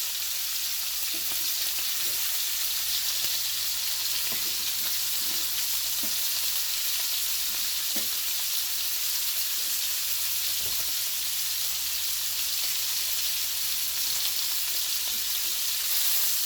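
Steak and bacon frying in a cast iron skillet on a stovetop, a steady close sizzle and crackle holding evenly throughout with a few faint clicks and bumps, no talking.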